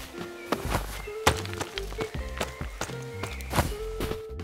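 Game sound effects from the indie platformer Candlehead: a quick run of soft footsteps and thunks, punctuated by sharp hits and tonal blips, moderately loud and close with no talking.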